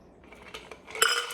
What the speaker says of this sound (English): get our strainer and strain that delicious pink cocktail into our cup